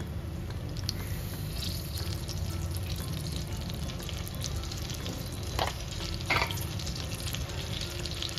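Oil and butter heating in a pan, giving a steady low crackling sizzle that stays even throughout, with a couple of faint clinks near the end.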